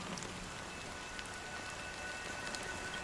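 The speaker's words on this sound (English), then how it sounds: "But it's still raining." Steady rain falls in the Penacony area of the video game Honkai: Star Rail as an even, hissing patter with scattered drop taps and no voices.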